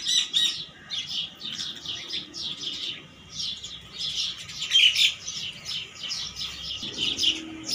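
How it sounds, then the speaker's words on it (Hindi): Many small birds, sparrows, chirp and tweet continuously in quick overlapping bursts, moderately close, with a low rumble entering near the end. "उन सारी वीडियो के अंदर पीछे बैकग्राउंड पे इन परिंदों की आवाज़ें आती रहती हैं"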